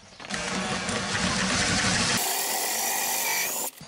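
A power drill held steady in a jig whines as a plug cutter bores into recycled wood, the grinding pitch shifting partway through before the motor stops.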